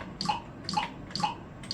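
Windows 'Drip' system sound effect played on a computer, four evenly spaced watery plinks with a bright falling tone, repeating in a steady rhythm at low volume.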